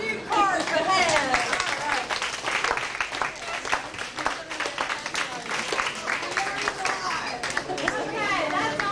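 A crowd at a science museum staff follies show applauds new cards, dense clapping mixed with chatter and children's voices, fairly loud and steady for several seconds.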